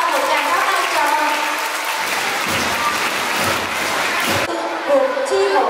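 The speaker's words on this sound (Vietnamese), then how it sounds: "Các con cho một tràng pháo tay chào mừng." A roomful of schoolchildren claps in welcome, a loud sustained burst of applause that swells in the middle, with an amplified announcer's voice before and after.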